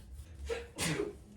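A single sneeze, close and fairly quiet: a quick inhale followed by a sharp burst of breath.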